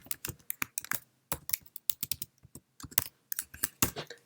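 Someone types a folder name on a computer keyboard in quick, irregular bursts of crisp, close key clicks, with short pauses between runs.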